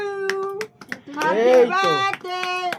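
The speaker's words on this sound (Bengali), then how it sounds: "হাততালি দাও" Hands clap in a few quick bursts at a child's birthday celebration, mixed with a voice and people singing close by.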